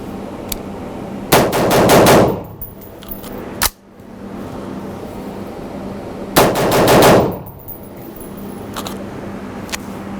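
Two bursts of rapid semi-automatic fire from a Sig Sauer MCX rifle shooting Remington UMC 55 grain .223 ammunition, each a loud string of closely spaced shots, separated by a lone sharp crack midway, with ringing quiet between.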